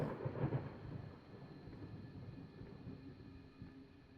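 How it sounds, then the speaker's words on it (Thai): Thunder in the horror video game Layers of Fear, a low rumbling roll that swells briefly at the start and then fades into a quiet, dull ambient murmur. "ฟ้าผ่าฟ้าร้อง"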